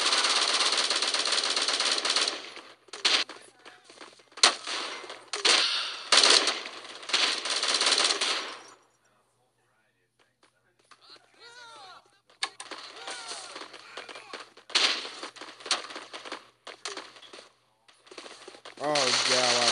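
Rapid automatic gunfire in the mobile shooter Bullet Force rattles in dense bursts, breaks off into a brief silence, then resumes in further bursts, loud and close.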